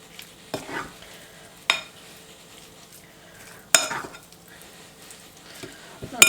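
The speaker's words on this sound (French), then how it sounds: "je vais mettre de l'huile dans la cuve de ma mijoteuse" Oil heating in the ceramic pot of a slow cooker, a faint crackle with a few sharp clinks and scrapes of utensils against the pot, close by, no voices.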